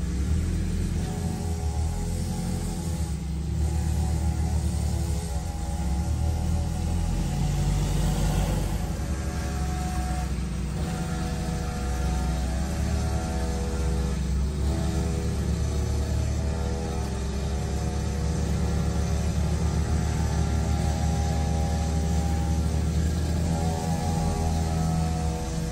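A quad bike and a mini motorbike climb a street uphill toward a dirt trail, their engines a steady, close, droning rumble with mild swells in revs throughout, no talking over it.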